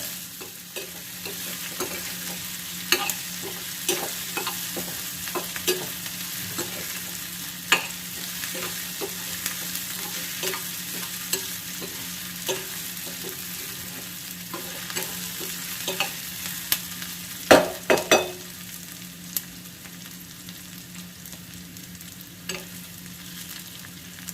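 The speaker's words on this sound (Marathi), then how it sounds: "बटाटा आणि कांदा हे एकाच वेळेला घालून घ्यायचं. हे चांगलं फ्राय होऊ द्यायचं." Potato and onion frying together in a pan, a soft continuous sizzle broken by frequent scrapes and knocks of a spoon stirring, with a few louder clatters near the end.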